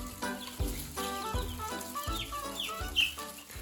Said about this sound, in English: These are my 2-week-old chicks already in the chicken coop.